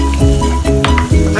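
Soaked cashew nuts sizzle and crackle in a hot frying pan while a spoon stirs them, loud and close, with a few soft scrapes against the pan.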